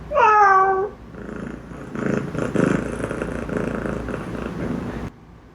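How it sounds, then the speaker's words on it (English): A drawn-out meow with a falling pitch opens, followed by several seconds of low rumbling purr, close and fairly loud. "This is a cat."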